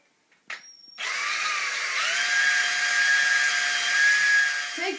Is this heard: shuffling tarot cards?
no